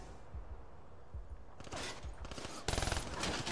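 Gunfire in Call of Duty Black Ops 3 multiplayer, faint distant thumps at first, then bursts of close automatic fire with rapid evenly spaced shots growing louder toward the end.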